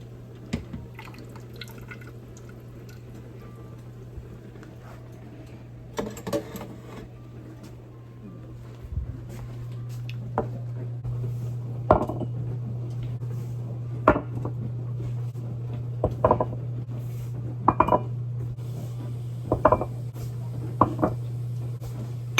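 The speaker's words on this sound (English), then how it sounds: "let's pull our jars that are now sanitized" Sanitized glass canning jars are lifted out of water, giving a series of sharp clinks and drips spaced every second or two over a steady low hum, close and fairly quiet.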